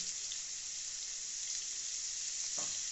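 Pointed gourd (potol) lightly frying in oil in a pan for a thin katla fish curry, a constant soft hiss of sizzling with an occasional stirring scrape, heard alone.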